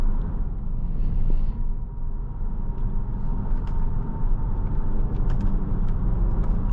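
A 2023 Kia Stinger GT-Line accelerating on the road, heard from inside the cabin as a steady low engine rumble with road noise that swells slightly as the car picks up speed.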